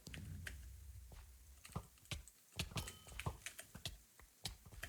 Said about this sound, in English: having that mechanical keyboard is just nicer